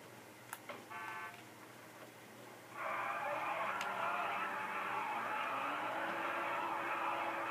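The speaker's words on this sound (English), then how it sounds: "Got a nice Audi right here." An Audi driven in the GTA Online video game starts up loudly about three seconds in and holds a steady engine roar, preceded by a few short electronic beeps and quiet game ambience, with no voices.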